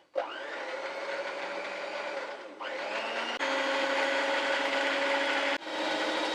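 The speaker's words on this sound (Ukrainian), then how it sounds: "Збиваємо білки до стійкої пишної маси" Electric mixer whipping egg whites into stiff glossy peaks, a steady close whirring drone with a few abrupt pitch and speed changes, heard alone without talk.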